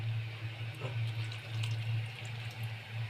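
Water runs steadily from a tap, a continuous splashing stream with a low hum underneath.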